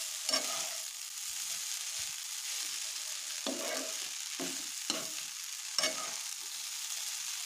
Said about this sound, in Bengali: মশলাটা আমি অ্যাড করে দিচ্ছি, আবারও ভালো মতো নাড়াচাড়া করে নিচ্ছি।